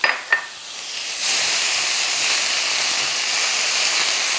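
Finely chopped onion hits hot margarine in a pan with a couple of quick clatters, then settles into a steady, moderate sizzle and hiss with no talking.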